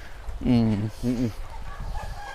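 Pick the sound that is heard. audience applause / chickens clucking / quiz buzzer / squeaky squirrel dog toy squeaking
chickens clucking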